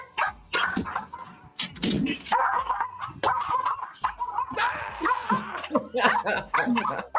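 Pet dogs bark in several bursts, mixed with loud overlapping talk and laughter from people nearby.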